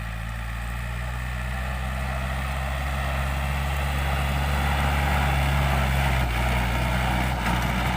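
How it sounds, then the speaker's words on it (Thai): A new Yanmar EF514T tractor with a water-cooled four-cylinder direct-injection diesel engine runs steadily at close range, a loud continuous low rumble with no talk. "เครื่องยนต์4สูบครับ Direct Injection ระบายความร้อนด้วยน้ำ"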